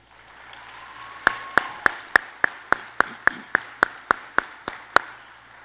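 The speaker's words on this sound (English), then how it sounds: "Graduates, please join me in giving a heartfelt round of applause to your families, supporters, and the staff members who helped you reach this milestone tonight" Sharp, evenly spaced claps ring out one at a time, about a dozen in a steady rhythm, close and crisp over a faint room hush, at a graduation commencement ceremony honoring families, supporters and staff.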